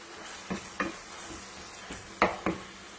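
Kebbe filling being mixed with pomegranate molasses, giving a few soft, separate scraping and stirring strokes, close and fairly quiet, with no voices.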